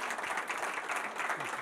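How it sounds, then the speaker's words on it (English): An audience applauds an author at a meet-the-author event, a steady, moderately distant patter of clapping hands with no voices over it. "Let's all give him a round of applause."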